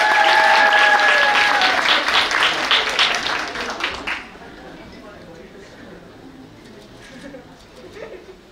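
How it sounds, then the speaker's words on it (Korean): Applause from wedding guests at a ceremony swells loudly at first, then fades over a few seconds into quiet room murmur with faint voices. "박수 부탁드리겠습니다"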